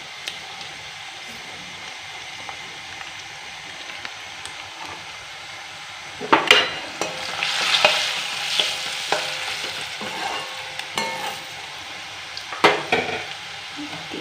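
Red chili fries in a pan in a home kitchen, a steady sizzle with scattered crackles and a few sharper pops, stirring scrapes rising midway with no talking.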